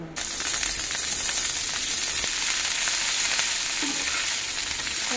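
Coriander leaves for kothimeera pachadi fry in a hot pan, a continuous bright sizzle with crackly hiss that stays loud and even, up close, with no voices.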